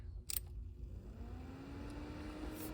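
A USB external cooling fan rigged as an exhaust behind a desk hums steadily, a constant low whir with a faint rising tone and a brief click near the start, no talking over it.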